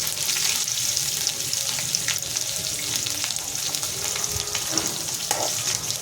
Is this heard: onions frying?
yes